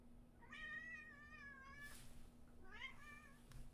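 A cat meows twice, a long drawn-out cry followed by a shorter one, close and fairly clear over a faint steady hum, with no talking.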